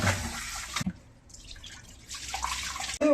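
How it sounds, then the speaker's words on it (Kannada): Plain water poured over raw chicken pieces to wash them, a splashing and dripping rush that stops, leaves a quiet pause with faint trickles, then resumes with splashes near the end, close and without talk. "Normal water ಹಾಕ್ತೊಳ್ಳಿ."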